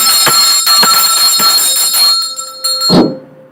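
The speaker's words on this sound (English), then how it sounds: "Let me ring the bell a little bit to cleanse my own energy." A small hand bell rings loud and close in rapid repeated strikes, its bright shimmering tone sustaining before one final strike fades out, during a tarot reading with no talking over it.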